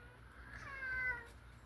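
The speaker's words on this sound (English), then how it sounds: "I don't know if you can hear the cat in the background" A cat meows once or twice in the background outdoors near a tree, a faint drawn-out call rising and falling over steady low ambient hum, with no talking.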